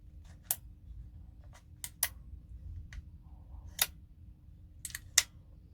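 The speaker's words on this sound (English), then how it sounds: "when you use the selector, it's got a definite click in place" Sharp metal clicks come from the fire selector of a G&G Wild Hog CM16 airsoft rifle, a budget AEG. Isolated, crisp detents snap close up, about eight in all, spaced irregularly over quiet room hiss.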